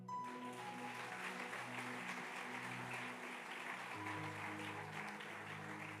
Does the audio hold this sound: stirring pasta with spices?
no